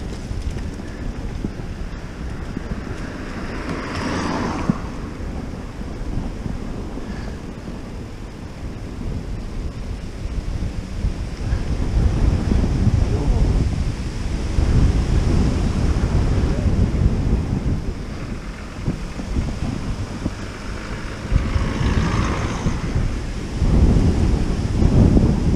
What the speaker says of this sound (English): The wind's blowing, I think.